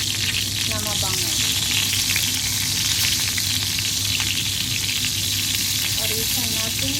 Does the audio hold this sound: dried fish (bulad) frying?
yes